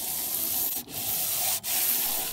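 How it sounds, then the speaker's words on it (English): Steady abrasive rubbing of 220 grit sandpaper over a fiberglass surface, close and continuous, broken by two brief pauses between strokes. "we begin sanding the surface lightly with 220 grit sandpaper."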